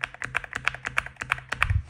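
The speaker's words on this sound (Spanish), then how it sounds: "me han mandado este teclado que, además de ser precioso, suena así de bien" Typing on an Akko MU01 Mountain Seclusion mechanical keyboard with a premium wooden case: a steady run of close, crisp keystrokes with deeper thocky bottom-outs, heard alone without talking.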